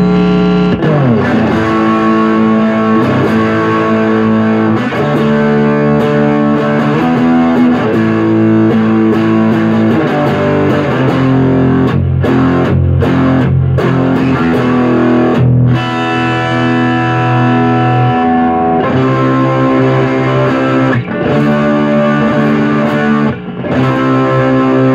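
Electric guitar played through a BOSS Blues Driver BD-2 overdrive pedal set to maximum into a Roland JC-50 Jazz Chorus amp, loud and heavily distorted, with sustained chords and riffs filling the whole stretch, no talking.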